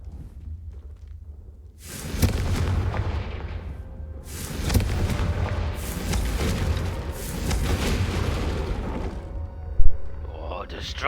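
A spell blast wrecks things in a Harry Potter video game, with booming explosions and crashing debris that come in repeated loud surges, and voices talk over them.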